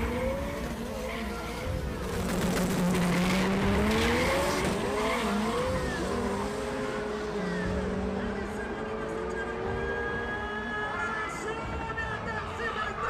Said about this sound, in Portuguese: mais um gol 4x4 aí, preparado pela Drexler Turbo aí